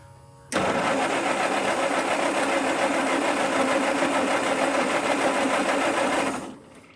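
A 1946 Jeep engine, recently troubled by carburetor backfires, cranks and catches, then runs at a steady, even idle for about six seconds before shutting off, loud and close throughout.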